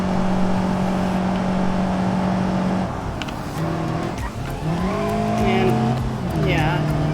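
Simulated front-wheel-drive ibishu Crosssport mod in BeamNG, engine droning steadily then revving up and down through shifts, with rising and falling whines and faint tire noise, close and continuous.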